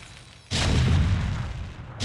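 A Protoss pylon is destroyed in StarCraft: Remastered, giving one sudden loud explosion with a deep booming body that rumbles and fades over about a second and a half.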